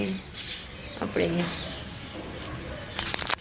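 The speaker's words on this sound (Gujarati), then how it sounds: "મસ્ત મજાના પક્ષીઓનો અવાજ આવી રહ્યો છે" Outdoor birds at a rural home call in brief chirps scattered through the scene, partly masked by someone talking nearby.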